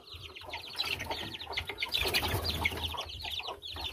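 Backyard hens with a few young chicks cluck and peep close by, a busy overlapping mix of soft clucks and high chirps continuing throughout with faint rustling beneath.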